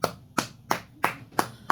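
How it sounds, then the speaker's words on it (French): Six sharp hand claps in a steady rhythm, close and moderately loud, with quiet gaps between them. "On applaudit pour qui? Pour les Lions. On applaudit encore."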